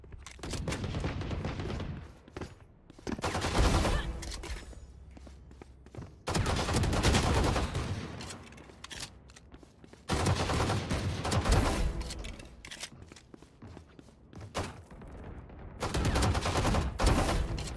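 Frenzy pistol fire during a Valorant deathmatch, rapid bursts of shots in several loud clusters separated by short gaps, close and punchy.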